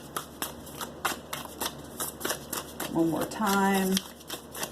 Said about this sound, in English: Let me just give this a quick shuffle.